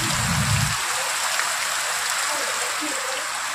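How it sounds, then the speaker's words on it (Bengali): Steady heavy rain pours down outside, a dense even hiss of drops on surfaces that holds through the whole stretch, with a low rumble near the start and faint voices in the background. "দেখছেন কিভাবে বৃষ্টি হয়ে যাচ্ছে।"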